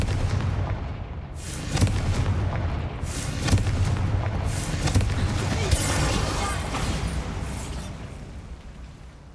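Confringo spell explosions in Hogwarts Legacy, a series of booming blasts and bursts layered over rumbling combat noise, fairly loud and spread through the clip with some faint game voices.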